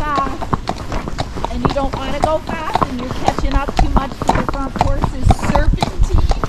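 A gaited horse walks along a road, its hooves clip-clopping in a steady, close rhythm under ongoing conversation between riders.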